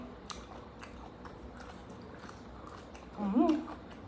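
Close, crunchy chewing of a spicy Thai Isan salad of sausage with tendon and cartilage, soft wet bites and crunches that swell near the end, fairly quiet and alone without talk.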